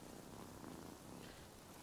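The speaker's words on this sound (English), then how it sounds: "Now, where's that cat?" Steady, continuous low purring from a cat in the Rise of the Ronin video game, a soft even rumble filling the moment with no talk over it.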